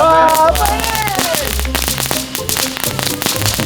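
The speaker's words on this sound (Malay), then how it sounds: "ini bunga api tu, aku tahu. Ni nama dia ni, kentut naga" A small kentut naga mini firework goes off during Raya play, giving a rapid series of sharp crackling pops. Children's voices talk and exclaim over the bursts.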